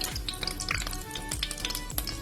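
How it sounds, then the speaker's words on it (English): Small pieces of beef fry in hot oil, a dense continuous sizzle with crackling pops and occasional stirring scrapes from a utensil in the pan, close and steady throughout. "I'm going to fry this and I'm going to put it back in this bowl once I feel it's done"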